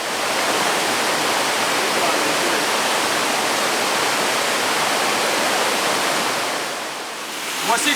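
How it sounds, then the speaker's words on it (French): A forest waterfall on the Assok river roars as a loud, continuous broadband rush of falling water, steady throughout with a slight dip near the end. "Ici, c'est une chute."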